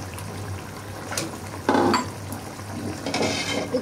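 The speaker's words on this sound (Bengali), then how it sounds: "এই তো বলক চলে এসেছে আর জাল হচ্ছে" Curry broth coming to a boil in a covered pot on the stove, a soft continuous bubbling hiss with a low hum beneath and a few brief clinks of a lid or utensil.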